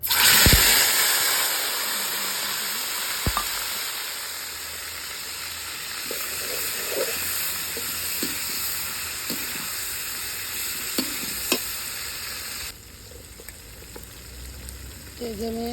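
Ginger, onion and garlic fry in oil outdoors at night, a loud sizzle at first that settles into a steady hiss, with scattered clinks and scrapes of stirring and brief background noises.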